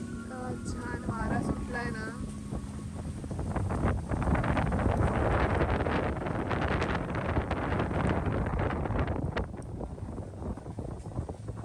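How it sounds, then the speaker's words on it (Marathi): Wind gusting outdoors just before rain, a loud steady rushing and buffeting across the microphone that swells in the middle and continues throughout, with a brief voice near the start. "छान वारा सुटलाय ना."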